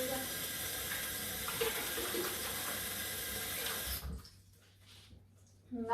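Hands are rinsed of blue food colouring under a running kitchen tap after icing a cake: a steady rushing stream for about four seconds, then the flow cuts off, leaving faint drips and a small clatter.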